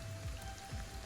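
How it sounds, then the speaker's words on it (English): Steady rainfall in the video game Ghostwire Tokyo, a dense, continuous patter of drops on surfaces, even and close throughout with no voices. "I'm glad it's raining so we can actually see that."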